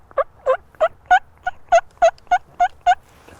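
Imitated sleepy tree yelp of a wild turkey hen, a voice or call mimicking it: eleven soft, evenly spaced yelping notes in a steady rhythm, close and clear, with no talk.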